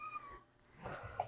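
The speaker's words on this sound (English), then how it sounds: "I have a cat here, one of my cats." Domestic cat meowing indoors: one brief, faint meow after a quiet moment, close by but soft.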